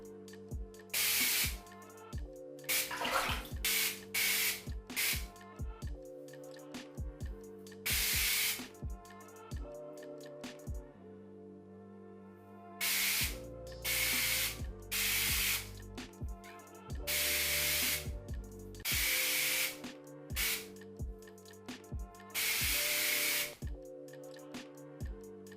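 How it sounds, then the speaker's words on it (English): Rose gold hair tint sprayed in a shower, a series of loud hissing spray bursts of varying length with brief gaps between them, close to the listener. "Okay, so it is a spray. Let's just spray this."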